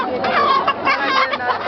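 A hen clucks repeatedly at a chicken auction in Bahir Dar, a near, fairly loud run of choppy calls with voices murmuring behind.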